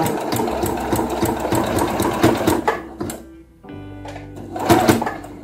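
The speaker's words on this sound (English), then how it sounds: "And you sew really, really close to the edge." Sewing machine stitching close to a fabric edge while a grocery bag dispenser is made, a rapid mechanical chatter that pauses briefly, then runs on in short bursts, loud and near.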